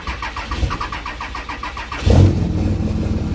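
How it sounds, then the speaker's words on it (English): A truck engine cranks briefly and catches on a freezing 21-degree morning, a short starter whir followed by a loud rumbling idle up close. "Let's see if she starts."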